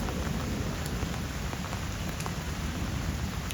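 Steady rain falls across an outdoor zoo setting, a dense, even hiss of drops with scattered sharper patters, continuous and fairly loud with no voices.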